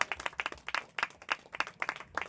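An audience claps, uneven bursts of sharp hand claps in quick succession, moderately close and fairly loud, with no voices.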